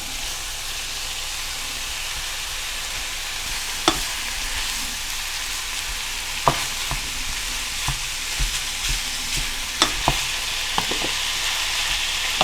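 Ground meat empanada filling frying in a pan, a steady soft sizzle with occasional sharp scrapes and stirring clicks from a utensil, no voices.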